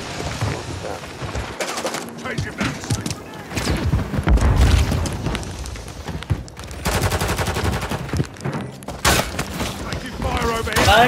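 A grenade explodes in a deep, low boom during a Call of Duty Modern Warfare 3 team deathmatch, surrounded by steady gunfire and game effects. Players talk excitedly over the action.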